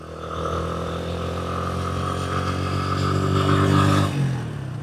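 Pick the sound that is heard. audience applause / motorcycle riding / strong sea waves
motorcycle riding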